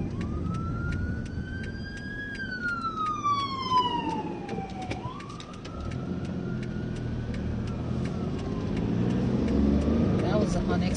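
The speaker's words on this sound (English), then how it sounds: "Some excitement as the ambulance is coming." Ambulance siren on a Bermuda road, wailing and yelping as it approaches and passes a car pulled over, sweeping loudly up and down over steady road and engine noise.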